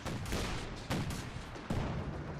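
Bursts of machine-gun fire from a Maxim team in a Company of Heroes 2 match, with rapid overlapping battle shots and loud staccato volleys amid continuous combat din.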